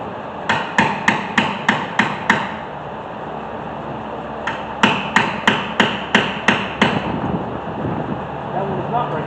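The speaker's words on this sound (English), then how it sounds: "stick it in here, kind of put a little pressure on it, and then hit it with a hammer, and it should break loose" A hammer strikes a screwdriver set against a stuck bolt during front brake and rotor work on a 2018 Hyundai Santa Fe, sharp metallic blows landing in two quick series of about seven hits each, close and loud.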